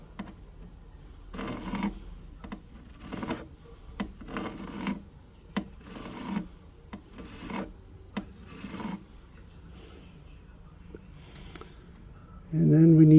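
A hand file rasping against a white gold ring being sized down, in a series of short, regular strokes that are quiet and close, ending with a louder bump.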